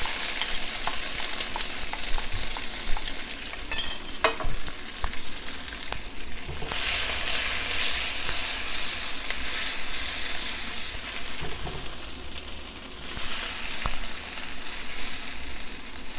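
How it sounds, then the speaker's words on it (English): Onions, the white part of scallions and habanero pepper sizzle in hot oil with garlic and ginger paste in a wok, a steady close hiss with occasional scrapes and stirring knocks and louder bursts of frying. "So now I'm going to add my onions and pepper."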